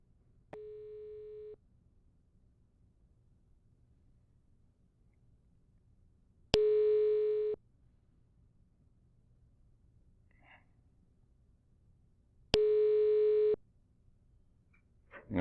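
An outgoing call rings through an INVOIP softphone on a computer: three separate ringback tones about six seconds apart, clean and isolated against near silence.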